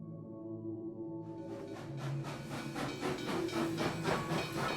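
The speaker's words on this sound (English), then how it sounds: "Lincoln's train from Washington arrives at Gettysburg the day before the dedication" A steam train arriving at Gettysburg, low rumbling that builds into rhythmic chuffing and hissing bursts, growing louder as it draws near, with no speech.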